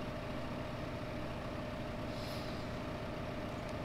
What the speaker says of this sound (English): I think my tractor might not be quite powerful enough